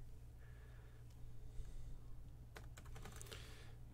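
Typing on a computer keyboard while taking project meeting minutes, with a soft, steady run of faint keystrokes and a brief busier burst of clicks near the end, over a low background hum.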